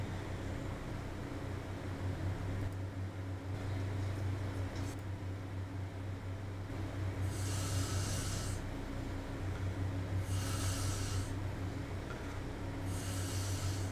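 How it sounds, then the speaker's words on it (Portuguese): A woman snores softly in a quiet room, with several breathy, rasping snore bursts spaced a few seconds apart over a low background hiss. "esse sim foi um ronco trans"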